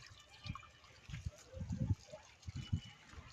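Water poured onto a rose plant in a garden, giving soft irregular splashes and trickles in several short bursts, fairly close and quiet.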